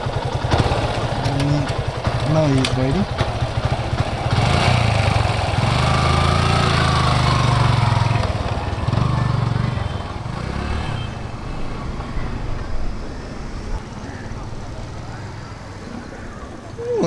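Engine of a second-hand Yamaha FZ-v2 motorcycle running steadily and loudly up close, its low drone swelling in the middle and easing off later, with someone talking over it.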